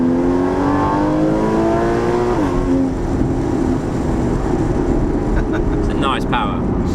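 A Porsche 981 Cayman S accelerates from inside the cabin. Engine and intake noise climbs in pitch through the gears with a shift partway through. People talk briefly over it near the end.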